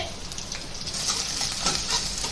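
Onions and green chillies hitting a hot pan with cumin seeds and curry leaves, producing a loud, steady sizzle with crackling bursts, close and uninterrupted.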